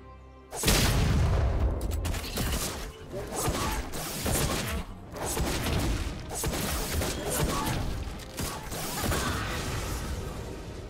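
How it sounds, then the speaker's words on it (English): A League of Legends turret is destroyed amid a dense run of booming crashes, heavy impacts and mechanical clatter that fill the whole stretch, with loud game effects throughout. "Blue team's turret has been destroyed."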